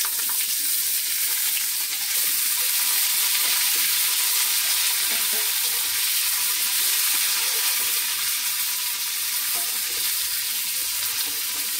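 Boiled white chana frying with curry leaves in a hot pan, a steady close sizzle and crackle holding even throughout with no talk over it.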